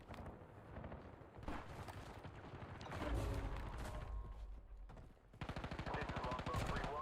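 AK rifle gunfire in the Warzone video game, rapid automatic bursts with short pauses between them, loud and close, with a voice talking over parts of it.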